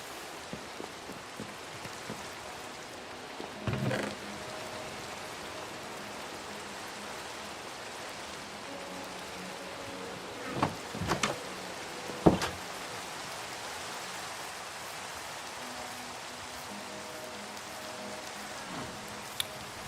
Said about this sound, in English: like it's constantly raining in every Minecraft world that I touch.